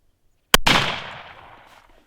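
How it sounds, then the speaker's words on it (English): A single hunting rifle shot fired with an army cartridge, two sharp close cracks in quick succession followed by a long decaying outdoor echo. "We're just shooting it out of a normal hunting rifle, but it is an army count."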